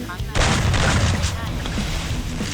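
Gunfire in the Free Fire battle royale game, loud and dense from about a third of a second in, with shots and booms blurring together under excited talk rather than landing as clean single shots.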